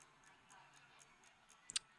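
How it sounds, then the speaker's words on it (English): A wall clock ticks faintly and steadily in a quiet room, with soft, regular ticks and one sharper click near the end. "I can hear a clock on my wall."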